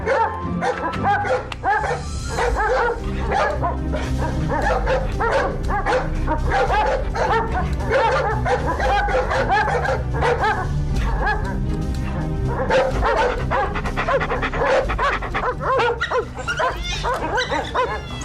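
Cartoon dogs bark, yip and whimper in rapid, overlapping bursts from the Indonesian animated series Si Yoyo, loud and busy throughout with background music beneath.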